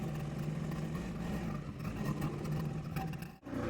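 A 36-year-old vintage Chetak scooter, freshly serviced, runs with a steady buzzing two-stroke engine note, close and continuous, with slight wavering and a brief dip near the end.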